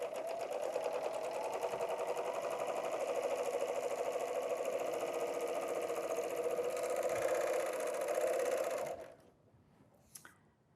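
A Bernina overlocker serging folded kraft-tex runs with a loud, even mechanical whir and rapid stitching rattle for about nine seconds, then stops abruptly, leaving near silence and a faint click.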